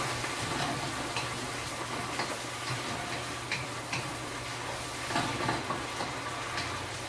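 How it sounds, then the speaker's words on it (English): Meat broth poured into a pan of sweet and sour pork, producing a steady, quiet sizzle and bubbling with faint ticking clicks throughout. "Adding broth from the meat that I cooked earlier."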